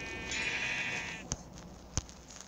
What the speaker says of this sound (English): Gotta get the sheep